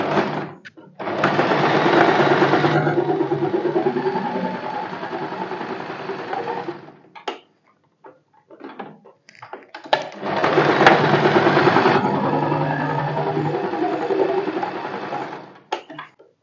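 Two loud close bursts of a sewing machine running a straight stitch along a garment shoulder seam, each several seconds of fast, even whirring with a brief quiet gap and handling clicks between them.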